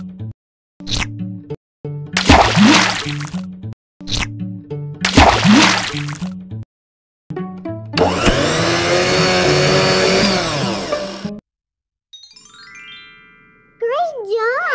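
A blender whirs loudly for about three seconds while making a fruit smoothie, set among cartoon sound effects, jingles and chiming tones in a children's learning game.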